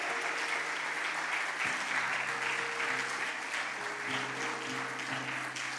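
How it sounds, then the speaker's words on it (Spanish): Congregation applause during a church memorial message, a broad, steady roar of many people clapping that holds evenly, with a sustained musical tone underneath. "Yo quiero que le demos un fuerte aplauso a Dios por la vida de mi suegra."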